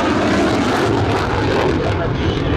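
Saab AJS37 Viggen jet roaring loudly through a flying display at an air show, a dense continuous engine rush with a commentator's voice faintly underneath.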